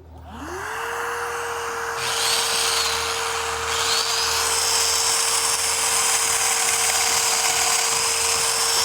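A Festool DF 500 Domino joiner spins up and cuts steadily with a Milwaukee vacuum attached, a continuous loud motor whine joined by a higher rushing suction tone that holds to the end, with no talking.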